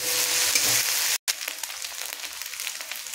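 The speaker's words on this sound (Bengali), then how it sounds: "এটা দিয়েও ভালো করে পেঁয়াজের সাথে মাখিয়ে ভেজে নেব আমি" Ginger-garlic paste frying with onions in a pan, a steady loud sizzle that cuts out for a split second, then resumes as a lighter crackle with soft stirring scrapes.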